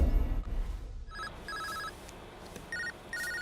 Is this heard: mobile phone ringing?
yes